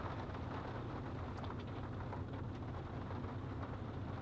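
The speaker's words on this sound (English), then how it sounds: "It's still raining. It's still a downpour." Heavy rain pours down in a steady, dense hiss outdoors, a continuous downpour with faint pattering drops and no voices.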